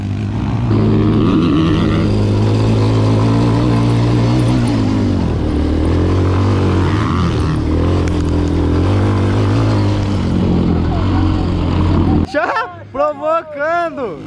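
Quad bike and motocross bike engines roar together in a street race, a loud sustained drone with shifting pitch that cuts off near the end, followed by brief loud speech.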